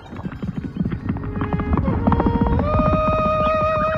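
Horse hooves clip-clop steadily as a prince rides through town with his bodyguards, with a whinny, shifting tonal sounds and a busy background.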